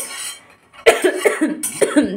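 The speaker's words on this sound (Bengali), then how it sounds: "ভীষণ এখানে একটুখানি ঝাঁঝ হচ্ছে তাই একটু কাশি হচ্ছে" A woman coughs repeatedly from pungent spice fumes in a kitchen, a quick close burst of several harsh coughs after a brief quiet moment.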